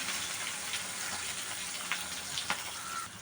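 Onions and green chillies frying in hot oil for a country chicken curry, a steady sizzle with a few soft stirring clicks, close and continuous with no talk.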